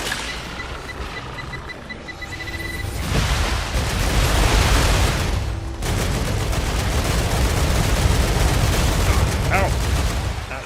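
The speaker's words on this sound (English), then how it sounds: "Grenade." A grenade blast in the shooter game Star Rupture amid heavy gunfire, a loud burst followed by continuous dense shooting and rumble, with a player talking over the action.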